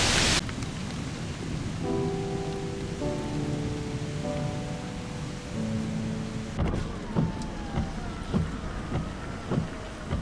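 Steady rain hisses and patters over a constant wind-like roar during the August 2020 Midwest derecho near Chicago, with occasional louder drops and thumps, no voices.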